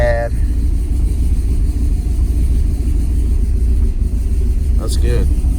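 A car engine idles steadily after a cold start, a close, continuous low rumble that stays even throughout, while voices talk over it and a brief higher squeak or whine appears near the end.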